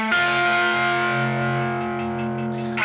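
Distorted electric guitar in a blues rock lick, two notes left ringing with wide vibrato under a heavy effects tone, sustained loud and alone for about three seconds.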